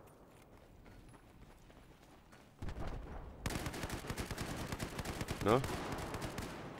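Gunfire in Battlefield 4 multiplayer erupts as dense rapid bursts after a quiet opening, with a louder flare near the end and a brief spoken word earlier.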